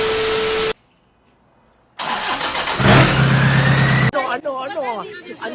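A built drift car's engine cranks and fires after a short silence, then idles roughly and loudly up close, while voices talk over it during and after the start.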